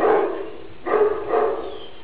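A dog barks in two or three loud, close bursts, with pauses between them and no other sound.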